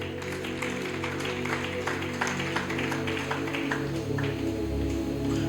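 A congregation claps in church after a scripture reading, a steady sustained round of applause over a held organ or keyboard tone.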